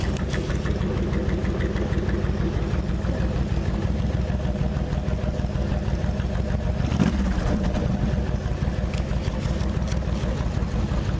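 A classic truck engine runs steadily and loudly throughout, with a low continuous rumble and a brief surge around the middle as the throttle is blipped once.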